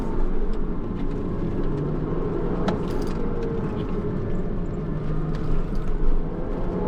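Porsche Cayman S sports car with a limited-slip differential driving on a track, its engine droning steadily and loudly up close with slight rises in pitch throughout.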